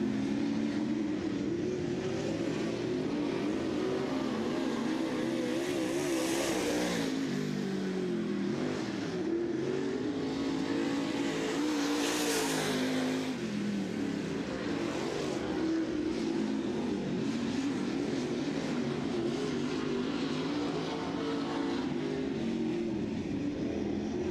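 Late model race cars roaring through qualifying laps at the Brett Reaume Memorial Race, a steady loud engine drone with swells as cars pass close, continuous throughout with no talk.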